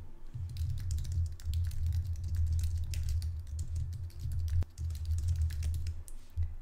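Rapid, steady typing on a computer keyboard, close and continuous clicking with brief pauses, no voices.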